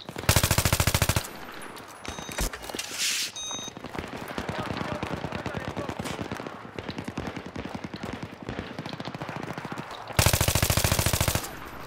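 Gunfire in a Battlefield 3 multiplayer match: loud bursts of automatic fire open and close the stretch, with rapid trailing shots and distant battle noise between them.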